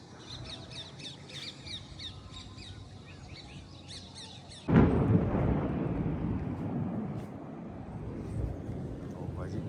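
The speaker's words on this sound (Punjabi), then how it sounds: "ਕੜਕਦਾ ਬਹੁਤ ਜ਼ੋਰ ਜ਼ੋਰ ਦਾ ਕੜਕਦਾ ਇੰਨਾ ਕਦੇ ਕੜਕਿਆ ਨਹੀਂ ਹੈਗਾ" Thunder from a rainstorm cracks suddenly about halfway through and rolls into a loud, sustained low rumble. Before it, birds chirp and call over quiet background speech.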